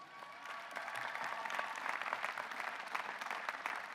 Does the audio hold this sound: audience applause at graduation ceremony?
yes